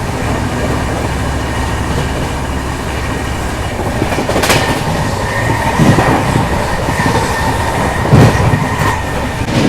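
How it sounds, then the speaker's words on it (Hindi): Duronto Express passenger train running at about 130 km/h through Hathras Junction in India, heard from inside a 3rd AC coach: a loud, steady roar of wheels on rail with rhythmic clickety-clack and brief metallic squeals. "और यहाँ फ्लैट 130 की रफ्तार में हम लोग हाथरस जंक्शन रेलवे स्टेशन को स्किप कर रहे हैं।"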